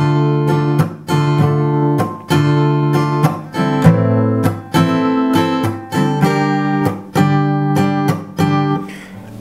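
An acoustic guitar plays a standard strumming pattern for a song: loud, close chords in a steady down-up rhythm with sharp muted chops on the beats, and no voice.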